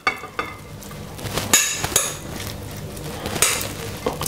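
Couscous salad scraped out of a bowl with a utensil, a few sharp scrapes and clinks at irregular intervals, close and fairly loud, with no voices.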